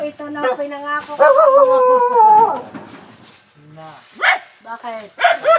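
A dog barking and howling nearby in a rural setting, a few drawn-out yowls followed by short sharp barks, mixed with people talking.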